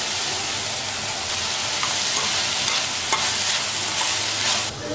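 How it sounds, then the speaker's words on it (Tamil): Onion and bell pepper sautéing in a pan for bread Manchurian: a dense, steady sizzle with occasional scrapes of a stirring spoon, close and continuous. "வெங்காயம் குடமிளகெல்லாம் நல்லா வதங்கிடுச்சு"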